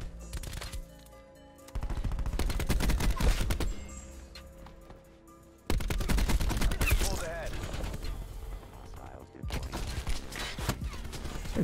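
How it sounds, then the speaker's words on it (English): Rapid automatic gunfire in the shooter game Black Ops 4, loud and close, in sustained bursts broken by brief pauses, with a player talking over parts of it. "Can I stop getting shot at by 20 different people?"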